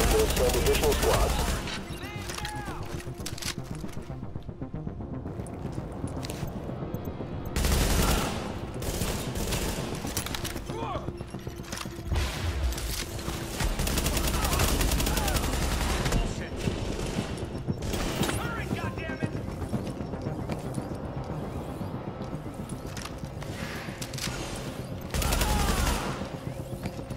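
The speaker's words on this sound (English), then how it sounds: "Reporting gunfire in the station above us." Repeated bursts of automatic gunfire and heavy fusillades from the video game Tom Clancy's The Division ring out loud and close, with short pauses between volleys and mechanical clatter over a continuous low rumble.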